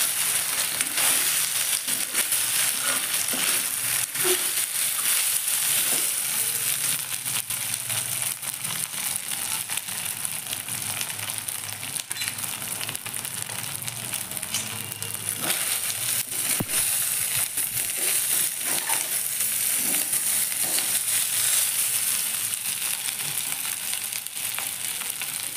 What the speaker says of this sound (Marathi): हिरवी मिरची वरूनच घालायची अशी। चांगलं फ्राय करून घ्यायचे।